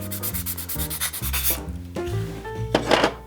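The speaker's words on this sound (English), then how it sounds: "I'm just gonna sand these real quick." Robby the Robot prop parts being sanded by hand, a rapid series of close, rhythmic rubbing strokes that grow brisker toward the end.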